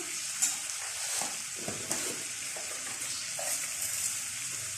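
Chicken and tomato frying in a pan for palak gosht, a steady hiss of sizzling oil with a few soft stirring clinks and scrapes, close and moderately loud with no talking.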